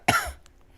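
A single sharp, close cough, short and rough, followed by quiet.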